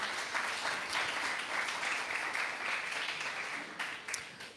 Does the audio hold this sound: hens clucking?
no